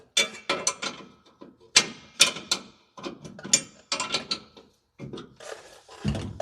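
A ratchet wrench tightens bolts during a towing suspension air bag upgrade, giving repeated bursts of sharp clicking strokes with brief pauses between them, close and alone.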